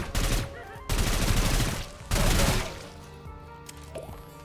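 A lighter gun fires in the video game Sulfur, sounding as three loud, dense bursts of rapid shots, each lasting under a second, followed by a quieter tail of faint game noise.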